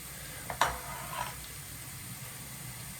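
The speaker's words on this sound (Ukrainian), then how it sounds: "цибулька з часничком тут у мене пасируються" Quiet, steady sizzling of onion and garlic sautéing in a pan, with a brief clatter of stirring near the start.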